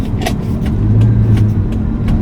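Car tires roll over a road with dirt on it, heard from inside as a loud low rumble with steady road noise and faint ticks and crackles.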